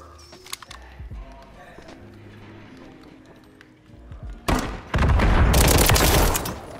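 Gunfire in Call of Duty: Modern Warfare III during a Search and Destroy match. Quiet in-game ambience with scattered taps gives way to a loud, dense burst of rapid shots that fills the final two seconds. No one talks.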